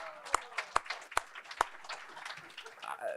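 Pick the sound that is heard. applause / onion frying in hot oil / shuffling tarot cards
applause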